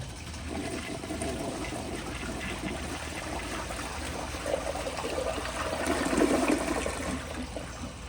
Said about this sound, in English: I'll give it another flush, and hopefully it'll flush like as if it were on a tank.